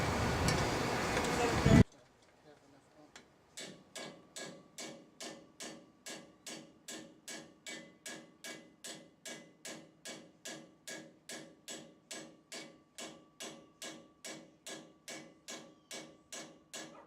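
Hammer taps a bearing into the rear end of a 1985 C-10, roughly thirty-five sharp, evenly spaced metallic strikes in a steady rhythm after a brief burst of louder noise.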